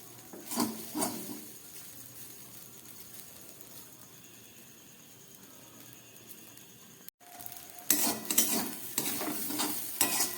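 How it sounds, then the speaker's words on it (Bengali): Flattened rice (chira) frying and being stirred in ghee in a pan, with bursts of scraping and stirring over a soft sizzle, a quieter stretch in the middle, then busier stirring toward the end; no talking. "ঘি দিয়ে আমি চিড়েটাকে হাফ ভেজে নেব যাতে কাঁচা গন্ধটা না থাকে"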